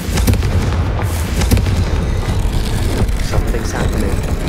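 A Confringo fire spell blast from Hogwarts Legacy fires as a loud, booming burst, with further thumping impacts and rumble filling the short stretch.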